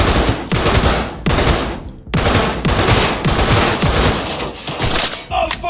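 Rapid bursts of automatic gunfire from a shootout at a gang hideout in Cyberpunk 2077, loud and close, with brief pauses between volleys and someone talking faintly underneath.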